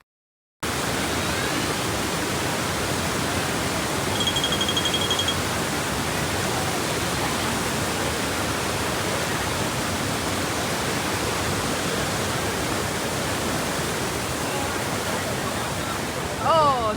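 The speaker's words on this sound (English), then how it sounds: "we had an amazing time visiting the biggest waterfall in my hometown" The biggest waterfall in a hometown roars as a dense, steady rush of falling water, loud and unbroken from start to finish after a brief silent opening.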